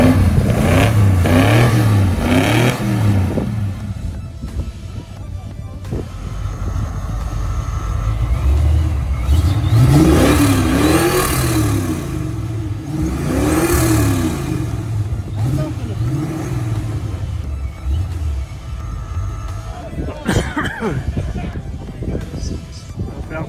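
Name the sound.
car engine revving at motor show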